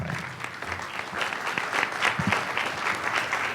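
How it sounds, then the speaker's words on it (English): A conference audience applauds a speaker being introduced, dense, steady clapping from many hands filling the room at even loudness for the whole stretch, with no voices over it. "Give him a round of applause."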